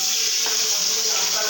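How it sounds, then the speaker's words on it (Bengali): Fish frying in a pan: a steady, close hiss of hot oil sizzling, even and continuous throughout with no pauses. "এই যে মাছ ভাজছি"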